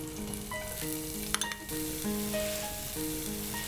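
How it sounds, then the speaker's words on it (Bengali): Garlic and onion sizzle in butter and oil, a steady close frying crackle with a few sharper pops, running under melodic background music. "গার্লিক দেব, পেঁয়াজ,"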